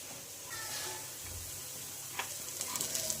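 Bottle gourd appe frying over a medium flame in an appe pan: a soft, steady sizzle at low level, with a few light clicks and taps toward the end.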